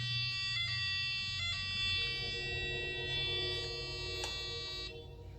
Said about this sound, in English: Sounds like every smoke detector in every house.